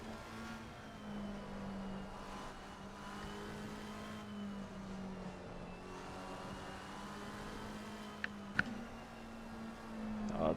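A GT race car's engine in Assetto Corsa Competizione at Suzuka drones steadily with rising and falling revs, a sustained mid-pitched hum that shifts gears, with a couple of sharp clicks near the end.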